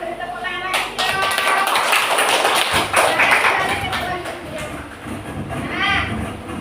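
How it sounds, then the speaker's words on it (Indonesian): Classroom applause from pupils after a group game, a dense continuous patter of many hands clapping, loud and close, with children's voices and an adult talking over it. "beri tepuk tangan lagi dong"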